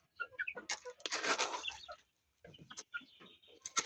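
Chickens cluck and squawk in short, close bursts while being fed, with a brief flurry of wing flapping and pauses between calls.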